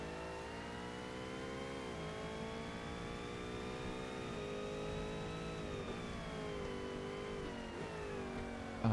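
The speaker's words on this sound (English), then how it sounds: "rev limiter." A race car in Forza Motorsport holds a high, buzzing engine note pinned near the top of its revs, a sustained, steady drone with slight wavers in pitch, fairly faint and heard alone.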